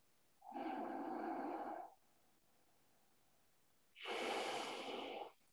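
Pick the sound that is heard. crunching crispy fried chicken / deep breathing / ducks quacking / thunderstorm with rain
deep breathing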